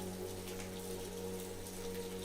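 Steady rain falls on a surface in London, a continuous even hiss of drops with a low constant hum beneath, no voices present.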